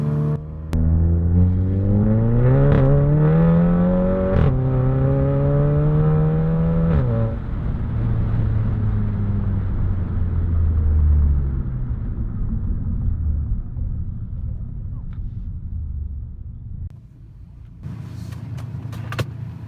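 A VW MK7 GTI with a DSG gearbox launches hard from a standstill, its engine revving up through quick gear shifts as it pulls away close by and then fades into a steady rumble with faint road noise.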